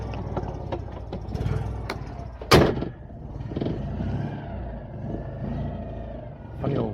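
Citroen Ami 8 engine idling low and rumbly just after starting, a near steady drone broken by a sharp clatter midway and small mechanical knocks.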